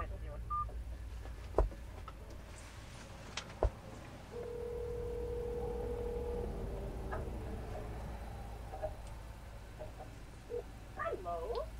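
A telephone being dialed for a call: a steady tone runs for about two seconds amid scattered clicks and taps, with short tone blips near the end, all fairly faint.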